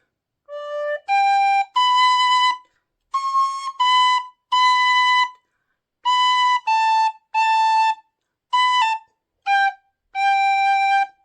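A tin whistle plays the lively Irish folk tune 'I'll Tell Me Ma' in short phrases with brief pauses, bright clear notes close to the listener, no voices.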